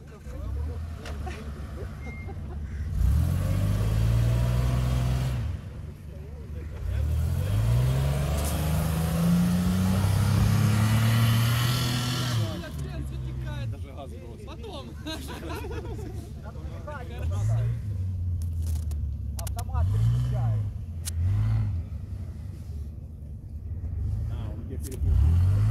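A Lada Niva engine labours and revs in repeated surges while climbing hills off-road, close and loud, with people talking over it throughout.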